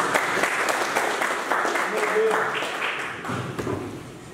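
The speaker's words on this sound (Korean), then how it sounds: "큰 박수 부탁드리겠습니다." An audience in a community forum hall applauds to welcome a speaker, steady clapping that slowly tapers toward the end.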